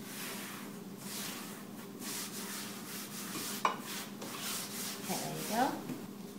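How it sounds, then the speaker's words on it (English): Scone dough being rolled out on a lightly floured work surface, giving soft, steady rubbing and scraping strokes at moderate distance, with a couple of sharper knocks near the end. "I'll be rolling the dough in."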